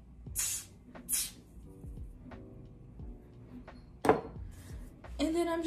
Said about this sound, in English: This is the Wig Dealer spray.